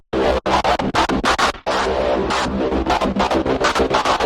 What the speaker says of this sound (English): I'm going to use the chopper in Cubase, which is basically like a slightly more complicated and aggressive tremolo effect